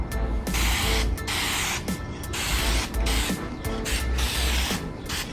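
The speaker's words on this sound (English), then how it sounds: "Hit them with some silver paint." Silver spray paint hissing from an aerosol can onto stock Honda CR-V lug nuts, in several loud close bursts separated by brief pauses.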